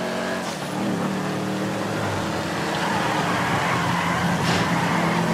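A tractor engine in the video game GTA V drones steadily throughout, a continuous rough motor rumble holding a fairly constant level, with no voices over it.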